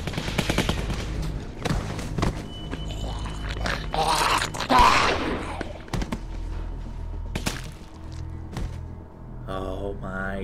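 Gunshots in The Walking Dead game, with sharp sudden bangs and thuds scattered over loud background action, partly under voices.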